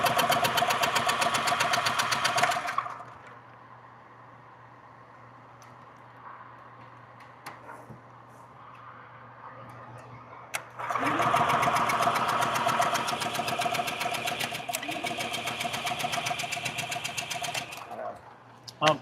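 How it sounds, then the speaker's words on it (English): An electric pump hums steadily and loudly close by in a garage. It cuts off for several seconds, leaving a quieter background, then starts running again before stopping near the end. "when you energize that, this pump works"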